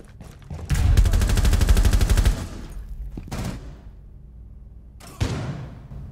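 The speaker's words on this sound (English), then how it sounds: "I had a clean shot on Twitch, I just missed" Automatic rifle fire in Rainbow Six Siege, a loud close burst of rapid shots lasting over a second, then a brief follow-up burst and a last short volley, with game ambience between.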